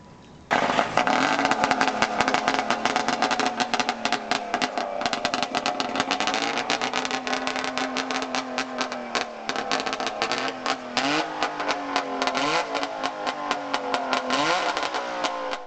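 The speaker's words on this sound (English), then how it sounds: "When you started one of these cars, it sounded exactly like a highly agitated lawnmower." An early Audi-era car engine runs at a rapid, buzzing idle like a frantic lawnmower, rising and falling in pitch as it revs, loud and continuous throughout.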